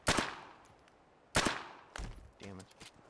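Two loud, sharp gunshots in Fallout 4 ring out about a second and a half apart, each with a short decaying tail, followed by a burst of brief voice and game sounds.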